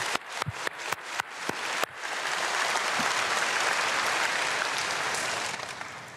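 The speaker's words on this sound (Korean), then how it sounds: "박수." A few sharp individual claps open, then the congregation bursts into dense, sustained applause in a church at an early-morning prayer service, holding steady before tapering slightly at the end.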